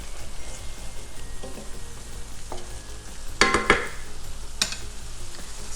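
Tomatoes simmering down in a pan, a soft steady bubbling sizzle with a few clinks of a utensil stirring against the pan, no talking.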